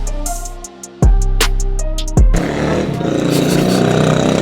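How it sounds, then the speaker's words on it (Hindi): A 1993 Royal Enfield Bullet motorcycle with a worn clutch plate, under restoration: after a few clanks a loud kick-start bursts through and the single-cylinder engine catches into a steady close running thump. "सबसे पहले इसके इंजन को एक बार स्टार्ट करके देखते हैं"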